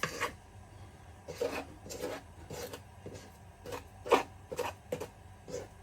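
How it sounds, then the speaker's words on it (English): A big plastic spoon scrapes vanilla cake batter around a bowl in a series of short rasping strokes, each separated by brief pauses, faint and close. "I'll try and scrape it all to the middle"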